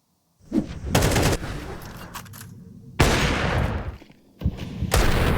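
Gunfire in a professional Counter-Strike 2 esports match, the EU RMR B 2024 with TSM facing NiP: several sharp, loud bursts of shots cut in over a steady background of game noise, with longer sustained volleys near the middle and toward the end.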